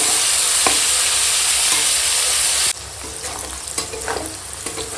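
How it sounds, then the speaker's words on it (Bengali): Mixed vegetables with cashews and raisins fry together in oil and ghee, giving a loud, dense hiss that drops abruptly partway through to a quieter sizzle with occasional stirring scrapes. "এই তেল ঘিয়ের সঙ্গে সবজিটাও ভাজা হয়ে যাবে কাজু কিশমিশও ভাজা হয়ে যাবে"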